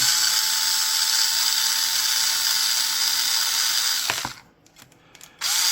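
A small power screwdriver runs steadily with a high, whining buzz while backing screws out of a knife sheath, then stops abruptly near the end with a short mechanical clack before the whine starts again.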